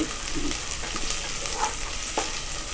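Onions and tomatoes sauté in a pan for a mutton curry, a steady close sizzle with a few scraping stirs of the spatula, no talking.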